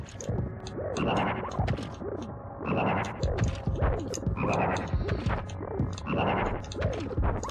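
A frog croaks in the video game Mosa Lina. Loud, deep, warbling croaks repeat in long pulses against a constant electronic game backdrop, with no speech.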